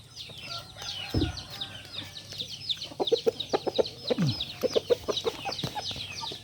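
Hens in a backyard flock cluck in soft, repeated pulses that are close and fairly quiet. The clucking builds into a busy rhythmic run toward the end, with a couple of low thumps early on.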